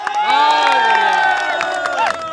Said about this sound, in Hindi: जोरदार तालियां बजाओ अपने लिए।